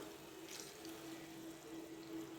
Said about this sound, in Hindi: अब हम यहाँ पर थोड़ा सा पानी ऐड करेंगे।